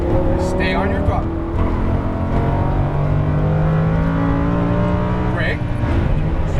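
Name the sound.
Lamborghini Huracan engine accelerating on track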